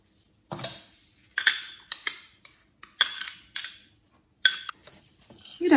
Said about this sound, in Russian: И размешиваем.